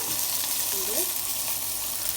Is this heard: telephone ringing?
no